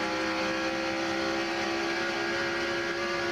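Onboard a NASCAR Winston Cup stock car leading the race at Lowe's Motor Speedway, a steady high-pitched engine drone at full throttle, constant and close with no breaks or talk.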